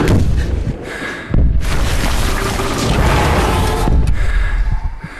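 Slow-motion film explosion from The Hurt Locker, a sustained loud roaring blast with deep rumbling low end, swelling again after a brief dip and holding dense and heavy throughout with no talk.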